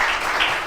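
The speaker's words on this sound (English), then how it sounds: "Can we all give them a round of applause?" Audience applause after a panel presentation, a short dense burst of clapping heard steadily throughout, moderately loud.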